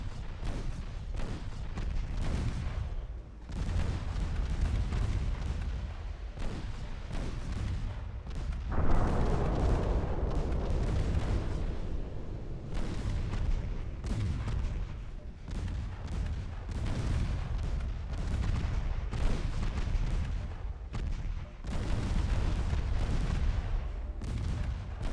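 Naval guns fire in a warship battle in Ultimate Admiral Dreadnoughts, sending out a continuous barrage of heavy booms and overlapping gunfire that rumbles on without pause, loud and near.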